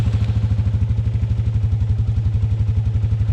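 A Can-Am Outlander 500 DPS ATV with its big single-cylinder engine fires up and settles into a loud, close, steady idle thump, a rapid even pulsing chug with a slight clatter, with no voices.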